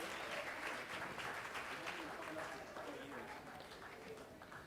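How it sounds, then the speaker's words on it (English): A story slam audience applauding storyteller Eddie Hejka: a dense, even roar of clapping from a crowd, fairly soft and distant, fading slightly toward the end, with voices mixed in. "Give him a big round of applause."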